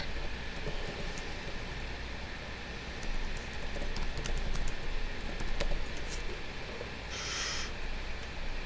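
Quick clattering keystrokes patter on a keyboard in loose bursts over a constant low background hum, with a brief brighter burst of noise near the end and no speech.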